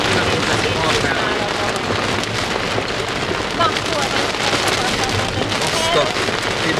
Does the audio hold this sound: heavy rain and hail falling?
yes